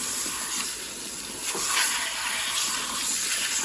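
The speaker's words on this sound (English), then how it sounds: "give a good rinse before we put it in the sink and give that a rinse" Running water rinses a freshly butchered rabbit carcass in a sink, a constant broad splashing hiss that swells slightly as the flow strikes the meat, close by with no talk.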